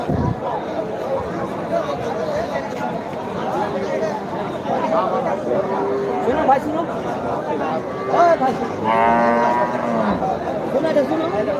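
Dairy cows moo repeatedly amid a busy crowd at a cattle market in North Bengal, Bangladesh, with steady chatter and bargaining voices throughout; several drawn-out lowing calls rise above the hubbub.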